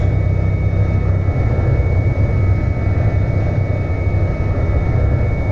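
Simulated turboprop engine of a Carenado C208 Caravan running steadily in X-Plane 11, a continuous droning hum with a low rumble and faint high whine, loud and unbroken throughout with no talking.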